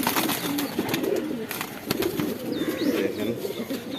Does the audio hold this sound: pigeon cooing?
yes